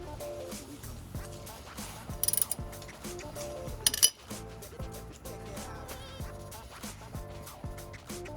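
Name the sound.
wrench removing brake caliper bolt on Subaru BRZ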